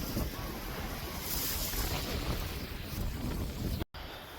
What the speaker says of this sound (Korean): 바람이 너무 많이 불어